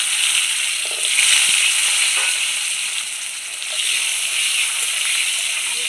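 Dried chilli, bay leaf, cumin and asafoetida sizzling in hot oil, a loud, continuous close-up crackle and hiss with small spits and stirring touches, alone without talk.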